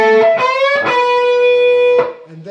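Electric guitar lick, played high on the neck with notes bent up, released and pulled off, a short bright expressive phrase up close and alone.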